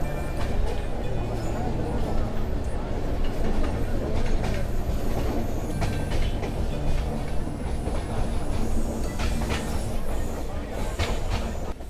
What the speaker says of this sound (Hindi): रेलगाड़ी चलने की आवाज़ और गुजरते लैंडस्केप यही उत्साहित करता होगा